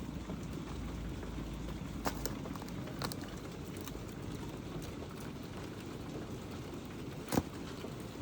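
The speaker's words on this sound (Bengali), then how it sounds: "বাইরে বৃষ্টি হচ্ছে," Steady rain falls outside, a dense, even patter holding at moderate level for the whole stretch, with a few brief sharper taps standing out near the middle and end.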